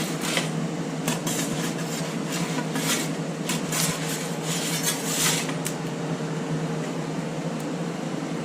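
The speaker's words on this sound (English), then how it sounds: "Are you doing dishes?" Dishes clatter during washing in a kitchen, with repeated sharp clinks of plates and cutlery over a constant hum of running water or an appliance, no talk.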